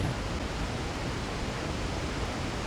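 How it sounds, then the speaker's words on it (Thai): A strong waterfall in Resident Evil 4, a steady unbroken roar of rushing water that stays even from start to finish and sits at a moderate distance with no other sounds over it. "อันนี้มันบอกว่าน้ำตกมันแรงเกินไปนะฮะ"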